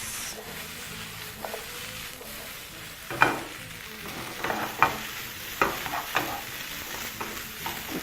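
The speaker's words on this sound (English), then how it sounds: "then now you add your vegetables. And then we're going to toss some more." French beans and mushrooms with garlic and chili are tossed in a hot pan, giving a steady sizzle broken by several sharp stirring scrapes and clatters, with no talking.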